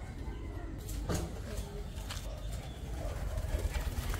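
Young pigeon in a loft, with soft cooing and bird sounds close by, mixed with faint background noise and a few brief knocks.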